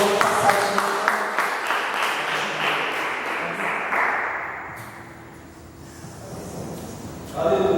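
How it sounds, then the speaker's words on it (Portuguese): Congregation applause during a church service, clapping that builds and then fades away, with a burst of voices and sound returning at the very end. "Aplauda o Senhor."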